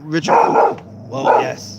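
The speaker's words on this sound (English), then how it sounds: "there's no reason to bark at that cat." A dog barks twice at a cat, close and loud, two distinct woofs with a short pause between them, while a person speaks over the barking.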